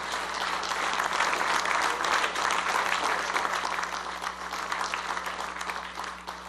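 Sustained audience applause at a company AGA opening ceremony, a steady dense wash of many hands clapping for the full stretch with no voices above it.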